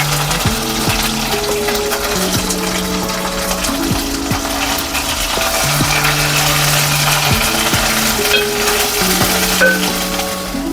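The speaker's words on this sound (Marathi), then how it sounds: "तर आता हे कांदा खोबऱ्याचं वाटण आहे ते थोडंसं तेलामध्ये परतून घेते." Onion and coconut masala paste frying in a little oil, a continuous close sizzle with stirring scrapes, overlaid by a steady tonal hum, no talk.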